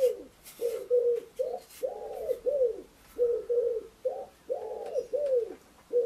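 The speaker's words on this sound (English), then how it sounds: "I've got wood pigeons." Wood pigeons coo in repeated soft phrases outdoors, each phrase a rhythmic run of hooting notes separated by short pauses. The calls are clear and fairly close, with no talking over them.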